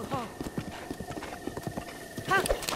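Horse hooves clip-clop in a steady rhythm as a horse travels in Zelda Breath of the Wild. A brief whinny comes near the end, and someone talks over the hoofbeats.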